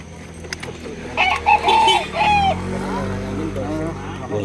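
Roosters and other fowl crow and cluck at a busy roadside market for fighting cocks along a highway in Alfonso, Cavite, with a nearby crowing call rising over market noise and people talking.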